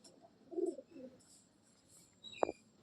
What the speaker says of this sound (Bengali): এটা বাড়ির পুরোনো কাল সবুজ নর পায়রা